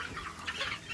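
Chickens kept on deep litter cluck softly at close range in a brief burst of overlapping murmuring calls, with no talk.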